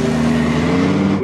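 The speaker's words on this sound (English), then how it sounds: "filming an F40 and Countach leaving" A Ferrari F40 and a Lamborghini Countach pull away together at a supercar gathering, a loud steady engine drone up close that cuts off abruptly at the end.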